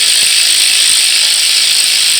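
A ratchet clicks rapidly and loudly up close as it removes spark plugs from a Dodge Hellcat Hemi engine, making one short continuous burst.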